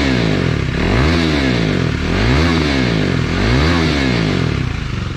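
A KTM Duke 390 BS4 motorcycle with an aftermarket exhaust revs hard and close, its engine note climbing and falling in three repeated throttle blips over a continuous loud rumble.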